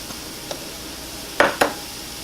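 Red pepper goes into a frying pan already cooking down onions, a soft steady sizzle broken by a few quick stirring clinks and two sharper scrapes near the end.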